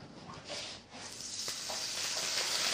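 Olive oil in a very hot frying pan, a loud hissing sizzle that dips briefly, then surges and stays strong and steady, close up with no talking.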